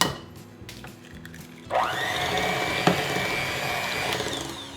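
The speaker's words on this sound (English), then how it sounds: "now using a mixer, hand mixer, or if you have a stand mixer, go ahead and use that" A hand mixer beating butter and eggs whirs up after some bowl clatter, then runs as a loud, steady high-pitched motor drone close by, with a tap against the bowl partway through.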